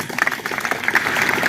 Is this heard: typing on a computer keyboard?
no